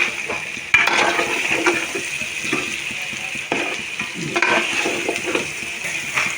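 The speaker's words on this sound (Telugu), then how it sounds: "కొంచెం ఉడికిన తర్వాత అప్పుడు చింతపండు పులుసు పోసుకోవాలి" Korameenu fish curry simmering in a pan as tamarind water goes in, a steady sizzle and bubbling with occasional stirring clinks and scrapes of a spoon against the pot, close and moderately loud.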